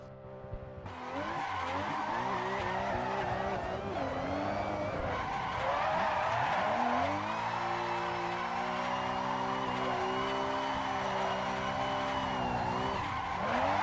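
Tires skid and squeal continuously as a car drifts in a racing video game, engine whine rising and falling with gear changes beneath a long, loud, sustained screech, no talk.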